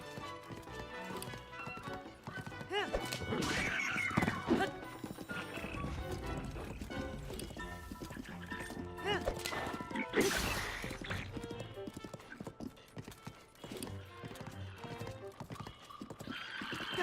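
Horse hooves clip-clop and a horse neighs in the video game Zelda: Tears of the Kingdom, with steady galloping beats, a loud whinny midway and game music layered underneath.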